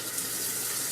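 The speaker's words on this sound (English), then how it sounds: "Now Tracy's using water. Just water" Tap water runs steadily into a sink over cast iron cookware being washed with water only, no soap, a close, even rush without a break.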